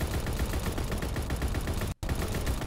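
Dense, continuous gunfire in the Call of Duty WWII video game during a domination match, a loud steady barrage with one brief dropout near the end and no talking.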